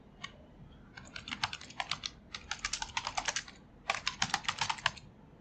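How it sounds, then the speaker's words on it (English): Rapid typing on a computer keyboard, close and clear, in irregular bursts of crisp key clicks with brief pauses between runs. "If you hit the enter key on your keyboard, you can move to the next paragraph."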